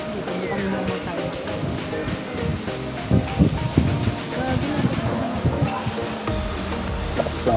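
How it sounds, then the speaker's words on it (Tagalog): Strong wind blowing at a riverside, a steady roar of rushing air and microphone buffeting with gusty swells throughout, under the voices of people talking nearby. "Lakas ng hangin eh."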